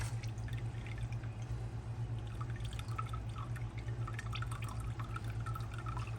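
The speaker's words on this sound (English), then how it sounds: "I'm pouring this oil right off of here" Oil from cooked meat pouring through a small foil funnel, a steady close trickle and drip that runs without a break over a low constant hum, with no talking.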